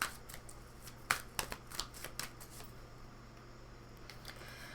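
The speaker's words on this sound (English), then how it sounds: "Go ahead and pull some tarot cards" Tarot cards being shuffled and pulled from the deck, with soft papery riffles and several crisp snaps of cards, quiet and close with no talking.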